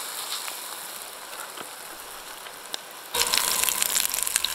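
Venison schnitzel frying in a cast iron pan gives a steady, close hiss and crackle of hot oil that swells noticeably louder and denser toward the end.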